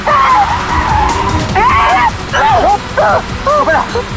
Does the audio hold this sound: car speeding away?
yes